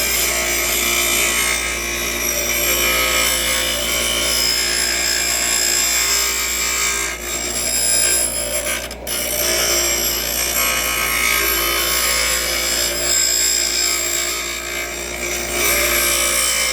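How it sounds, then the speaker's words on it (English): A sander grinder works the tip of a steel reinforcing bar in a steady, continuous abrasive grind, loud and close, with a brief dip near the middle before resuming at full intensity, no talking. "Get your sander grinder going, and you get into it."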